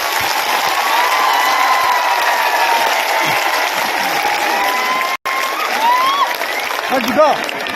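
A big crowd at an outdoor victory celebration claps and cheers continuously and loudly, with shouts and whistles mixed in and a voice over a loudspeaker.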